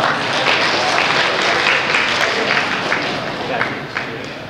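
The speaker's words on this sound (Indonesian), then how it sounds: "Oke, tepuk tangan dulu dong." Applause from a seated audience at a best-practice presentation session, loud and dense clapping that runs throughout, with crowd murmur mixed in.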